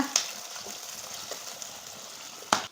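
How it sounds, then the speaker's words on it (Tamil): Shallots and garlic sautéing in a pan for a Tamil kara kuzhambu, a soft steady sizzle broken by a few sharp scraping clinks of a stirring spoon near the start and end. "கிண்டி கொடுத்து நம்ம சின்ன வெங்காயமும் பூண்டும் நல்லா வதக்கிக்கோங்க"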